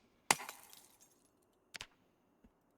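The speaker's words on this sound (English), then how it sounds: "It sounded like a smashed window." A window smashes in Project Zomboid with one sharp crash of breaking glass and a trailing tinkle of shards, then a couple of quieter clinks and knocks in an otherwise hushed scene.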